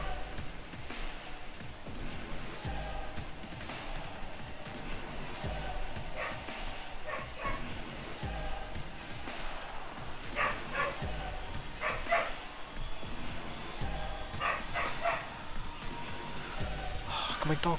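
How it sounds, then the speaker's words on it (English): Dogs barking in a room in short intermittent bursts while someone talks over a video game's sound throughout. "Dogs, please shut up."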